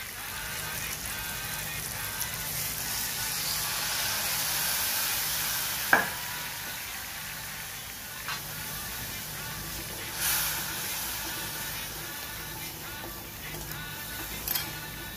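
Water poured into a hot chilli-powder tempering for a traditional chandkyachi dal: a continuous loud sizzle and hiss, with a few sharp clinks and stirring knocks scattered through.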